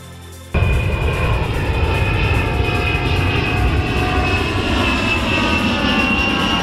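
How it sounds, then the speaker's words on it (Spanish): Airplane cabin noise during a landing approach into Paris, a loud steady engine roar and broadband rumble that starts abruptly after a brief quiet moment and continues unbroken. "Sin darnos cuenta, ya estábamos aterrizando en París."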